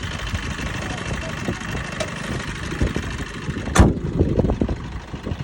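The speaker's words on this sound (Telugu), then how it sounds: "ఈ నాయిస్ ఎప్పుడన్నా మీరు ఇంజన్లో అబ్జర్వ్ చేశారా?" A Brezza car engine with 1.4 lakh kilometres on it, running after a carbon cleaning treatment, hums and idles steadily at close range with a brief louder burst partway through.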